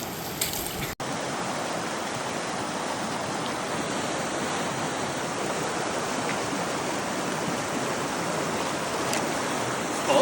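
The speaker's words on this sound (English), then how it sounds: "we are now stuck crossing the river several times" Steady rushing of river water at an Appalachian Trail crossing, a loud, continuous broadband wash that starts after a brief cut and runs unbroken without talk.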